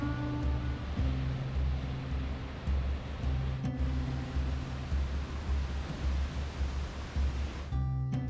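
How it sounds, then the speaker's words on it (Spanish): Toketee Falls, a waterfall in a forest in Oregon, roaring as a steady broadband rush of falling water, continuous and full, heard alone without talking. "En mi vida había visto una cascada tan espectacular como esta"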